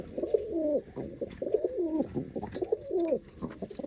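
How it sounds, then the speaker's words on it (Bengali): Pigeons coo in soft, repeated rolling phrases, fairly quiet and close, with brief pauses between calls and no talk. "এই হচ্ছে কবুতর জনসিরা"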